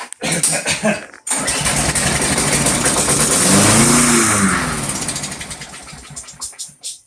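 A Briggs & Stratton engine on a Craftsman lawn mower that won't start after storage cranks briefly, then catches and runs loudly and close for several seconds before sputtering and dying, heard alone.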